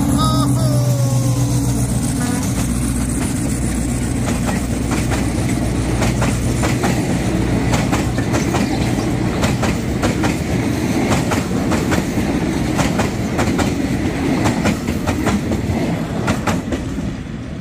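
Alstom locomotive number 4420 rolls into Bang Sue station in Bangkok, a loud, steady rumble with a low engine drone and rhythmic wheel clatter over the rails, continuing throughout.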